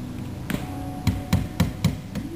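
Wooden parts of a princess bed being hammered together, five or six sharp knocks spaced about a quarter second apart, fairly close, over a quiet room hum.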